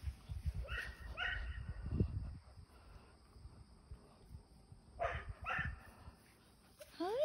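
Two blonde dogs on an outdoor walk let out short yips, whimpers and a few barks in scattered bursts, close by over faint rustling and footsteps.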